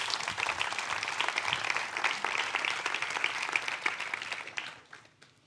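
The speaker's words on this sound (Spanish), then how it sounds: "Dele un fuerte aplauso a Dios." A church congregation gives loud, sustained applause, dense clapping throughout that fades out near the end.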